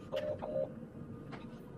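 Telephone keypad tones dialing out to place a customer call, a few short beeps in a quick uneven sequence, fairly clear over a quiet room background.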